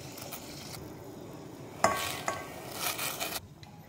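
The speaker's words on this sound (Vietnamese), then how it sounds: "Mình khuấy cho nó tan đường." A spoon stirs sugar into boiling Phu Quoc fish sauce in a pot, quiet scraping and clinking with a soft bubbling bed and a sharper metallic tap midway.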